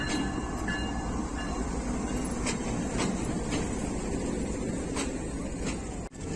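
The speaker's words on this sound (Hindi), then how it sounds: "पाकिस्तान एक्सप्रेस फैसलाबाद पहुंच रही है। लोकोमोटिव GEU 409055 के साथ।" Pakistan Express pulling into Faisalabad station behind locomotive GEU 409055, a loud continuous rumble of rolling wagons with rhythmic wheel clatter and faint squeals, ending in a sharp knock.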